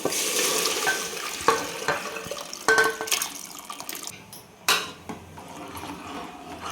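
Wet, sloshing scrapes and clinks of a spoon against a metal pot of mutton curry, irregular stirring strokes close by, with occasional sharper knocks.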